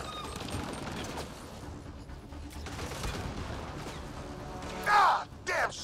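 Bursts of gunfire in the video game Mass Effect Andromeda crackle at a moderate distance over a low battle rumble, ending in a couple of louder, sharper blasts.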